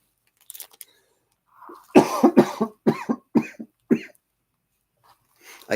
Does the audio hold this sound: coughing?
yes